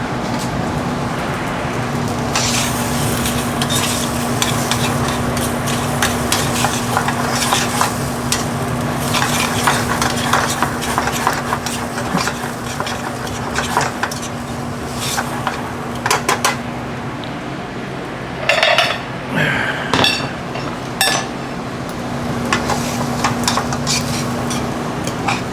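Pasta is tossed in a pan of pesto and a splash of pasta water with tongs, giving continuous close stirring, scraping and soft sizzling throughout, with a brief clink of metal near the end.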